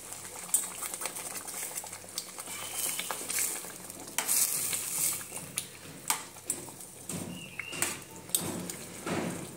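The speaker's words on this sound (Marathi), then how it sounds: "आता आपल्या ड्रमस्टिकच्या शेवगाच्या शेंगा ज्या शिजून झालेल्या आहेत त्या घालूया" Cooked drumstick pods stirred into sizzling masala in a pan, steady frying hiss broken by repeated scraping and clattering stirring strokes, close and fairly loud with no talk.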